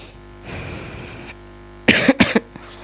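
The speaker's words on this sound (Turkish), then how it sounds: "Çok feci öksürüyorum." A soft hiss, then a quick burst of three harsh coughs close to the microphone.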